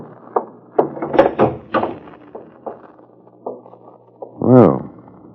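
A kitchen back door latch in a radio drama, clicking and rattling in a few short knocks, close and fairly loud, mixed in with actors' voices.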